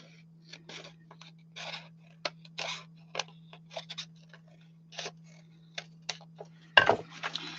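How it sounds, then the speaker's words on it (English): Scissors trim the cardboard cover made from a food box, a close, irregular series of short crisp snips and crunches with a steady low hum underneath and no talking. "So I think I need to trim it just a tiny bit more."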